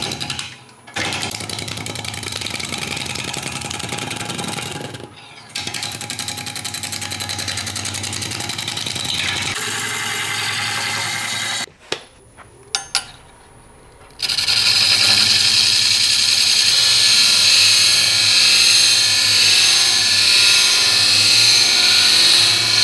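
A 1.5 inch spindle roughing gouge works a spinning sycamore log on a woodturning lathe, giving a loud, continuous scraping whir broken by short pauses, then a brighter, harsher cutting hiss near the end, close up with no talking.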